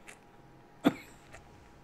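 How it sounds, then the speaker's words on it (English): A single sharp cough bursts out near the middle, close and fairly loud against a quiet room background, followed by a fainter breathy throat noise a moment later. "Damn it, cough, go away."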